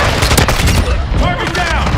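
Dense gunfire from a Call of Duty match on the Shipment map, with continuous rapid bursts of automatic weapons and explosions layered throughout.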